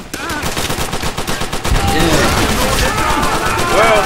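Sustained machine gun fire and gunshots from the video game Call of Duty: World at War, loud and rapid, layered with in-game battle sounds and shouted voices.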